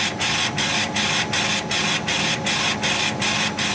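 Laser engraver in an RDWorks setup, pulsing its dots hard, producing a loud, harsh, steady hiss broken by evenly spaced rhythmic beats about three per second, constant and close.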